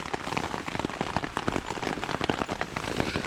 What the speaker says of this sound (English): Hopefully it'll just stop raining.